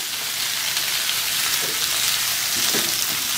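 Boiled mixed vegetables are stirred in a hot pan, producing a close, continuous sizzle with a couple of soft scraping strokes and no voices.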